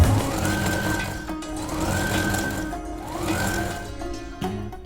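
A sewing machine quilts fabric onto a quilting sheet, stitching in three rapid, even bursts with short pauses between, close and clear against a quiet room.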